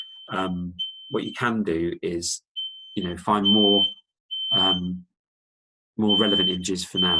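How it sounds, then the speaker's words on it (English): A smoke alarm beeps from a kitchen where dinner is burning, a steady high tone sounding in short repeated bursts beneath someone talking. "Apologies for that beeping sound. I think that's my dinner burning."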